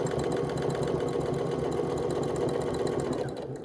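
A sewing machine runs steadily, top stitching a fabric face mask with a 90/14 sharp needle, its rapid even needle chatter continuous and close before slowing and easing off at the very end.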